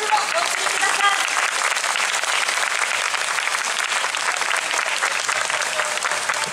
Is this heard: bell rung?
no